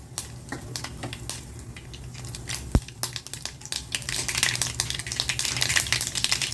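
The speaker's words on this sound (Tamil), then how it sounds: "இந்த எண்ணெயிலையே கடுகு போட்டுடலாம் கடுகு பொரியட்டும்" Mustard seeds spluttering in hot oil while tempering for a black urad dal chutney, a steady close crackle of pops that grows denser and louder toward the end, with one sharp knock partway through.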